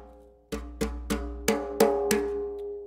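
Six sharp, hard-hit djembe slaps in quick succession, each a bright popping crack with a short ringing tail, close and alone.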